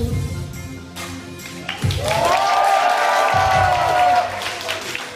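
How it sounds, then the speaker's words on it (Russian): Audience applause at a breakdancing battle, a crowd clapping and cheering steadily and fairly loudly, with a sustained voice-like whoop rising over the clapping midway. "Ребята, надо громче, громче аплодировать!"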